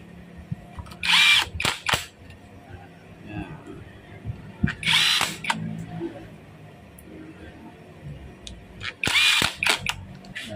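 A power tool drives bolts and screws into a Kawasaki engine, firing in three short bursts of whirring, ratcheting spin with quiet pauses and small metallic clinks between them.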